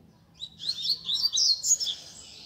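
Coleiro seedeaters chirp and sing in a quick, bright burst of high twittering notes, fairly close against a quiet background.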